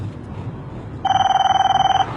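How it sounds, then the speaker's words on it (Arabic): A mobile phone rings with a bright electronic ringtone: one pulsing burst of about a second, starting midway through, close and loud over faint background hum, with no talking. "ويحك، إياك أن تجيب على هذا الجوال الكافر."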